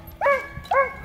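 Sled dogs at a dog sledding spot in Alaskan winter give two sharp, separate barks, fairly close and clear over quiet background.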